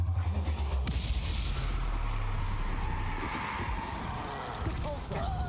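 Expelliarmus spell combat in Hogwarts Legacy gives a dense run of magical blasts, booming impacts and crackling effects over a low rumble, loud and continuous through the stretch.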